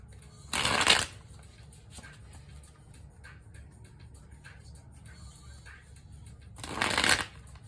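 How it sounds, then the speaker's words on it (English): Tarot cards are riffle-shuffled in two quick, crisp bursts about six seconds apart, close by, with quiet room tone and faint handling sounds between them. "We'll do a couple more shuffles here."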